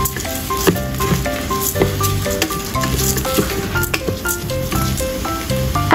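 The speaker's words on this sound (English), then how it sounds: "Add rice and stir fry." Rice stir-fried in a pan gives a steady hiss of sizzling with intermittent scraping and stirring knocks, mixed under prominent background music.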